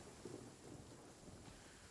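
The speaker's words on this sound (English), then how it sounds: "A rainy evening in the world of Genshin Impact." Rain and thunder from the Genshin Impact video game on a rainy evening, a steady quiet wash of rainfall with a low rumbling undertone throughout, no voices.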